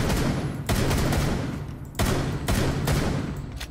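Sustained automatic gunfire in the tactical shooter game Rainbow Six Siege, loud and close, in several long bursts separated by brief pauses.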